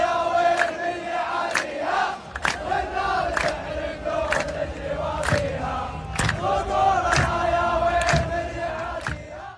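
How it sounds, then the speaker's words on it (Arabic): Saudi football supporters at a World Cup match create a loud, dense crowd roar with rhythmic chanting and sharp collective shouts that swell and recur every second or so, filling the whole stretch without pause. "راح أصور لكم الأجواء وراح نشوف الجمهور والاحتفالات"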